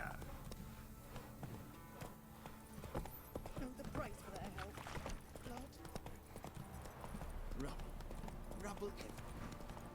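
Roach, the horse in The Witcher 3, clip-clops with steady hoofbeats and an occasional snort while people talk over it.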